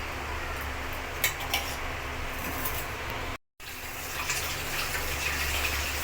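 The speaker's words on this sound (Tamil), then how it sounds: "தண்ணி வந்து ஒரு டம்ளர் அளவுக்கு தண்ணி சேர்த்து" Water gushes steadily into a bowl of gram flour batter for onion masala, a continuous splashing pour close by with a brief cutoff midway and faint clinks of utensils.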